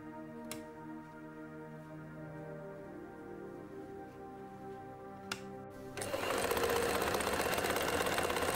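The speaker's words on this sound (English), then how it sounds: "Run the machine without thread at full speed and check how noisy it is." A used sewing machine runs at full speed with no thread, giving a steady mechanical hum with fine ticking that gets suddenly louder and harsher near the end, with no voices.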